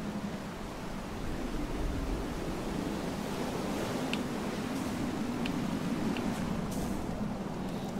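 Wind blowing across open water in the video game FAR: Changing Tides, a steady broadband rush with surf-like texture that swells slightly after the first second and holds constant, with faint high ticks scattered through.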